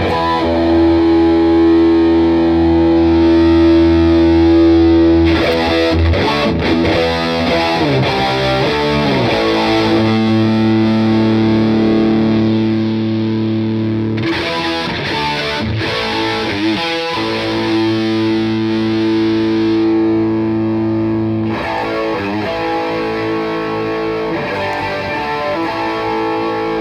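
A distorted electric guitar runs through an AmpliTube amp simulator, with sustained chords and melodic lines, loud and close, and the tone shifts between passages as the virtual microphone is moved.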